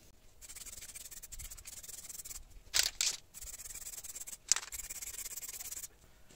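Spray paint hisses from an aerosol can in short bursts as a coat goes onto an aluminium alloy wheel, with faint rubbing and handling sounds in the quiet gaps between sprays.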